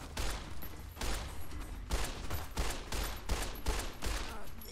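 Rapid bursts of gunfire in modded Fallout New Vegas, a dense fusillade of repeated loud shots in clusters roughly every half second, with no talk over it.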